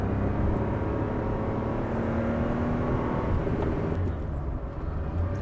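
A Porsche 911 engine hums steadily from inside the moving car, a low droning tone with a slight dip in pitch near the end, suggesting a gearbox shift, and no one speaking.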